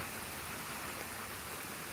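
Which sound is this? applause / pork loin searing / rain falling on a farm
rain falling on a farm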